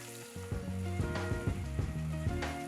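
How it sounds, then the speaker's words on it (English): Tomatoes sauteing in a pan with nigella seeds and dried red chillies, giving a steady sizzle with a few spoon knocks and scrapes, alone and close. "Let's saute for a minute."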